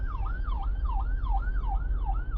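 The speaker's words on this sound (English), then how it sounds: "the ambulance is just now getting here." An ambulance siren wails in a steady, rapid up-and-down sweep, loud and close over a low rumble of road traffic and engine noise, with no speech.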